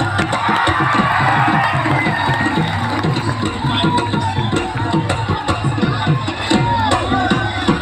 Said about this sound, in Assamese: দীপলিনাক আশীৰ্বাদ দি এটা হাত চাপৰি বজাওঁ না